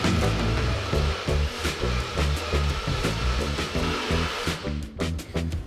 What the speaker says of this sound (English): It's going to blend in a whiz.